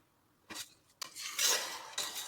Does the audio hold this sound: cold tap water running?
no